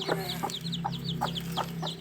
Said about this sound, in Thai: นี่ครับ นี่คือลูกไก่นะครับ